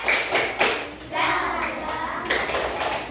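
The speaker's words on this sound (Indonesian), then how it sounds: "yuk sebelumnya kita tepuk semangat dulu" Schoolchildren in an Indonesian science class perform the rhythmic 'tepuk semangat' spirit clap, a close burst of patterned claps and thumps with young voices mixed in.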